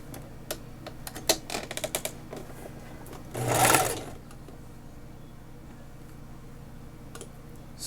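Sewing machine putting a half-inch hem on a batwing top sleeve, a few sharp ticks and taps followed by a short burst of loud stitching near the middle, then quiet room tone.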